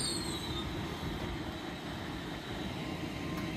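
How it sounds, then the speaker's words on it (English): An LNER passenger train to London King's Cross rumbles steadily at Newark Northgate station, with a constant low roar and a faint high wheel squeal, moderately distant, no talk. "So the 1219 LNER service to the London King's Cross then."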